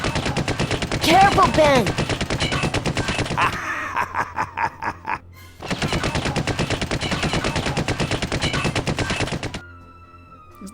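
Rapid machine-gun fire in the video game Full Throttle Remastered, two long sustained bursts of loud, dense automatic shots broken by a short gap with mechanical clanks, and a voice calling out briefly.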